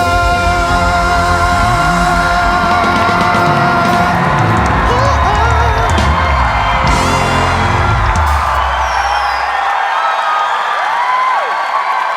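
A studio audience at a televised masked singing contest claps and cheers for the Golden Pheasant mask, loud whoops and applause layered over lingering music that cuts out near the end, leaving the crowd noise on its own.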